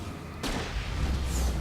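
A single sharp, heavy weapon blast in the Alan Wake video game hits suddenly and is followed by a rumbling tail, heard alone in a brief moment.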